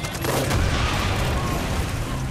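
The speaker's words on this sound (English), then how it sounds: "Holy explosion and a half." A loud explosion in the Far Cry 5 video game, a dense, roaring burst of blast noise that fills the whole stretch at close range, sounding like a rumbling fusillade, with no talk over it.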